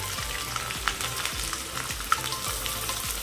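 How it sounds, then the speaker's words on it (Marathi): Onions frying in hot oil until browned and crisp for biryani, a constant close sizzle with regular low thumps of a spatula turning them and occasional sharp ticks, no talk. "कांदा लाल होईपर्यंत परतून घ्यायचा, कडक करायचा थोडक्यात"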